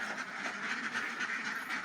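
A flock of ducks is released toward a rain-swollen pond, keeping up a faint, continuous chatter of quacking from some distance with no pauses.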